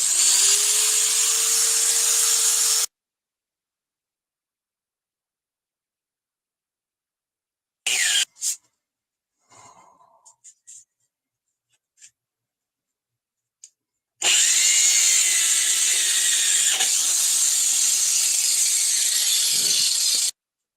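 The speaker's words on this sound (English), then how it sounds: "Let's try using the Mr. Clean magic grinder, shall we?" A handheld power grinder, called a Mr. Clean magic grinder, whines loudly as it scrubs at a stain on a jacket, in two long bursts with a few short blips and quiet gaps between them.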